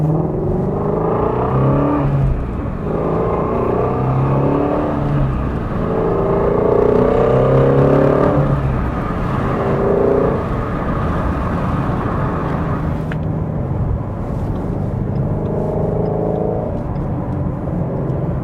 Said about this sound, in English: It just has a really unique exhaust note in general.